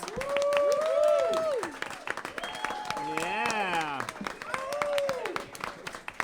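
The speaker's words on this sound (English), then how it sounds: "Please give another round of applause." Applause from an audience as the cast of a panel discussion comes onstage, clapping running underneath loud music with sliding tonal sounds and a brief spoken word, the clapping partly masked by the louder foreground.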